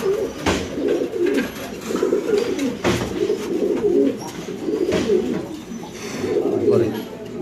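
Jacobin pigeons coo in low, repeated rolling calls, close and fairly loud, at a pigeon market with people talking and bustling over them.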